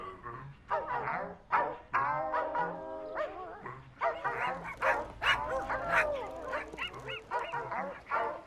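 Dogs bark and yip in quick bursts, with whimpering tones mixed in, fairly close and lively, interspersed with a person speaking over a quiet background.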